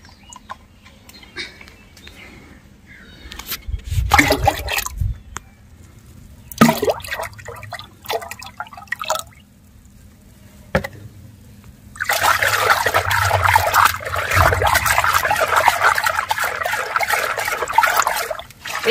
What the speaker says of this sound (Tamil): ஒரு பக்கெட்டில் முக்கால் பக்கெட்டுக்கு தண்ணி கொண்டாந்து வச்சு இதில் அரை லிட்டர் தண்ணி ஊற்றணும்னா போதும்.